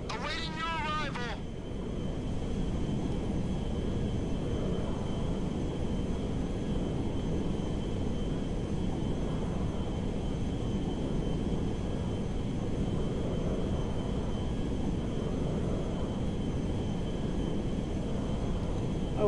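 A cargo jet aircraft lands in Grand Theft Auto V, its engines a steady loud broadband roar holding without a break after a brief opening burst of other sound.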